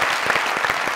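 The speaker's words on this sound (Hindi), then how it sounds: "उन भाई के लिए तालियां।" A studio audience claps for a guest on a comedy talk show, dense and lively applause close up, with a few sharper individual claps standing out from the steady patter.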